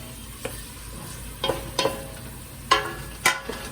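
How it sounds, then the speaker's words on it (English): Onion and garlic sautéing in a pot at medium-low heat for Portuguese beef stew, a faint steady sizzle broken by several sharp scrapes and knocks of a utensil. "So just going to saute for a while"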